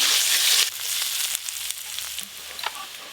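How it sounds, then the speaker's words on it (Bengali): Chopped onions fry in hot mustard oil with bay leaf and dried chilli, giving a loud hissing sizzle that spikes at first, then settles into steady crackling with occasional stirring scrapes. "সর্ষের তেল, তেজপাতা, শুকনো লঙ্কা, পেঁয়াজ কুচি, পেঁয়াজ কুচিগুলো প্রথমে একটু ভালো করে ভাজবো।"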